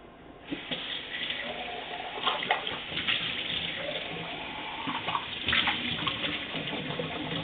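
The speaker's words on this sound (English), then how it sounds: "Take a little water, a little more water, swoosh it around in there, make sure you got it all." Water sloshes and swirls steadily inside a bottle being rinsed out after jerk seasoning, with faucet-like running and splashing throughout, close and fairly loud.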